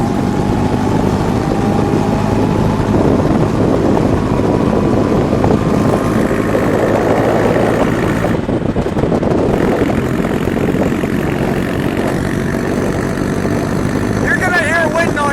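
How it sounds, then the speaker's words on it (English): Steady rushing wind noise fills the ride in a light 1913 Bugatti Type 22, roaring loud and constant over the engine and road sound, with a brief mechanical change near the end. "You're going to hear wind noise in this one."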